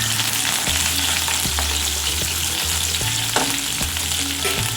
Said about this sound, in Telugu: చిల్లీస్, కరివేపాకు వేసుకొని బాగా మగ్గనివ్వాలన్నమాట.